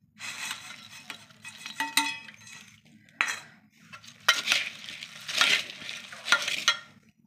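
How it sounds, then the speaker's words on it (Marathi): Bhel being tossed together with farsan in a bowl: a run of crisp rustling and scraping bursts, uneven and close, with brief pauses between stirs over a faint low hum. "आता हे सगळं मिक्स करून घ्यायचं आहे"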